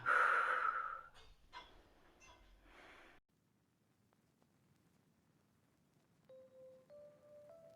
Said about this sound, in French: On inspire et on expire profondément.